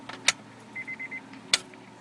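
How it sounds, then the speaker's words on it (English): Fuel pump on a 1994-1997 Honda Accord EX priming the fuel rail with the key cycled: a brief whirring hum of a few short pulses, fairly faint, framed by two sharp clicks, with no talking. "fuel pump is pushing gas up into the fuel rail"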